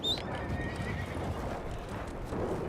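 A horse in the online Western game Red Dead Online neighs with a bright, shrill whinny near the start, followed by a lower trailing call over a dense rustling, clopping background, fairly close and moderately loud.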